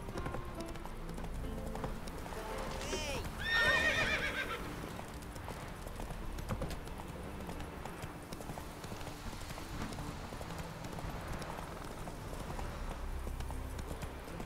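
Roach, a horse in The Witcher 3 video game, gallops with steady clip-clop hooves throughout and gives a clear neigh early on, over a soft game ambience.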